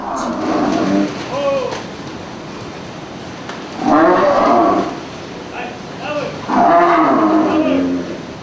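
Cattle at a slaughterhouse moo loudly and repeatedly in three long, drawn-out calls, close by, over a steady background hum.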